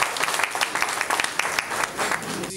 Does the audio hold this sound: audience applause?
yes